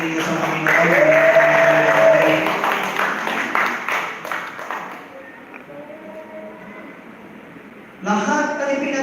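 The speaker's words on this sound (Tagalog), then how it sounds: "Yung palakpak ninyo sa Panginoon." A church congregation claps in a dense, sustained burst of applause during a service, with voices and crowd noise mixed in; the clapping thins out midway, then a short loud swell of sound returns near the end.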